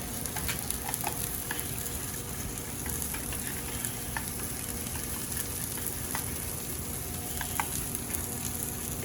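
Mild cheddar queso is stirred in a pan on a Blackstone griddle, with a steady soft sizzle and scraping spoon strokes and no talking.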